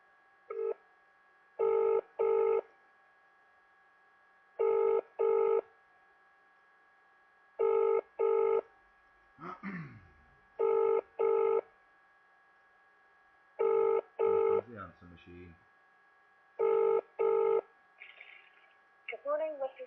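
A telephone call to the Rugby registry office: bursts of close, steady double-ring tones repeat at even intervals, with brief dialing and handset clicks between them.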